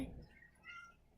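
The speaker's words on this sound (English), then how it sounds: "there's a cat meowing" A cat meows once or twice nearby at a window, a short faint call lasting about a second with some background noise.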